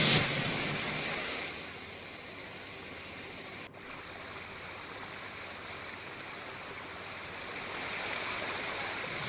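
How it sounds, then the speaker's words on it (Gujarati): Floodwater after torrential rain rushes along a road in Ambaji, a loud, continuous broadband roar, steady throughout with no voices. "તો આપ જોઈ રહ્યા છો અંબાજીમાં રસ્તા પર ધસમસતો પાણીનો પ્રવાહ વહેતો હોય તે પ્રકારના દ્રશ્યો સામે આવ્યા છે"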